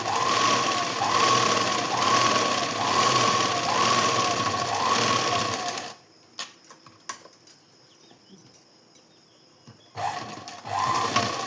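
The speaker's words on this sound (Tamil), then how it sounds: "அதே மாதிரி ஒவ்வொரு ப்ளவுஸுக்கும் நான் 4 தையல் அடிப்பேன்" A sewing machine stitches blouse side seams with a fast, steady mechanical whirr and rhythmic pulsing, stopping for a few seconds of quiet handling clicks before running again briefly.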